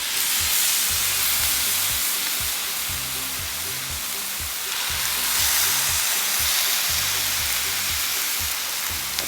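Pork sizzles in olive oil on a Blackstone griddle at medium heat, giving a loud, constant hiss close by that holds steady throughout, with a low rhythmic hum running underneath.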